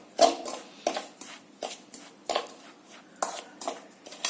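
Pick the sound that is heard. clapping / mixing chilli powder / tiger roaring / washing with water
mixing chilli powder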